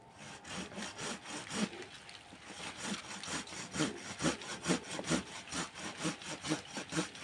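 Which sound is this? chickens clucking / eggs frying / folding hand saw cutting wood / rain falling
folding hand saw cutting wood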